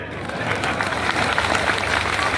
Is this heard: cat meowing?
no